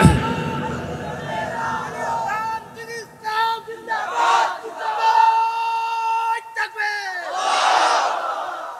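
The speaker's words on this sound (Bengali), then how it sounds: "তাকবীর।" A large outdoor crowd at a Bangladeshi Islamic sermon chants the takbir in repeated loud, drawn-out unison shouts, the call swelling and fading in waves with an echoing ring over a rough burst of cheering at the start.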